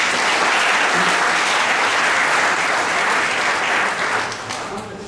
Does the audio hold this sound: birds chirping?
no